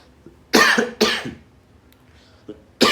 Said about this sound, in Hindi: अचानक से आ गई खांसी